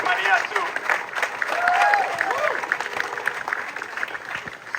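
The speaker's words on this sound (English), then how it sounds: "give another loud applause for Marissa" Outdoor crowd at a solidarity rally by the Santa Cruz Town Clock applauds speakers, scattered clapping and cheering mixed with voices and a few shouts, moderately loud and uneven.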